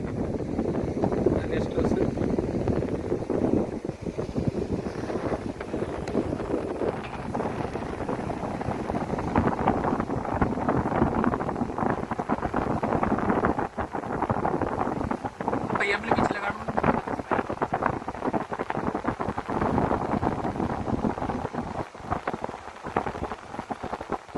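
Strong, steady sea wind at the Kannur lighthouse roars and buffets the microphone throughout, a continuous broadband rush with no pauses.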